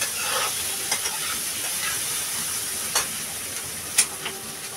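Water lily stems fry with shrimp in a pan for a Bengali dish. A steady sizzle runs throughout, broken by a few sharp clicks and pops, with no talk.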